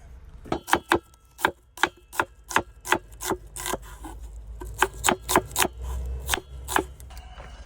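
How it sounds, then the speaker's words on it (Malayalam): Garlic cloves for chicken curry are crushed, likely on a wooden surface in a truck cab kitchen, giving a string of sharp, close, uneven knocks in quick clusters with short pauses and no talking. "വെളുത്തുള്ളി കുനകുനാ നരിയുക എന്നല്ല ജസ്റ്റ് ചുമ്മാ ഒന്ന് ചതയ്ക്കുക ഒന്ന് പൊട്ടിക്കുക"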